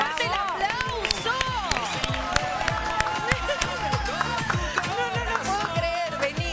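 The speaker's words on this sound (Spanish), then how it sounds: "¡Fuerte el aplauso!" Applause and cheering from a studio audience for a prize winner at a television game show, dense, loud clapping with shouts rising over it, while music and voices carry on throughout.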